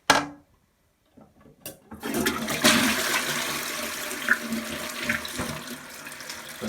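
A newly fitted toilet flushes up close, a short clunk of the handle followed by a rushing, gurgling surge of water that fades into cistern refill.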